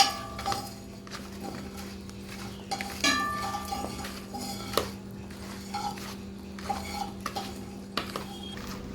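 A spoon clinks and scrapes against a pan while mushroom kulambu ingredients are mixed by hand, producing irregular metallic taps and stirring rasps at close range over a low background hum, without speech.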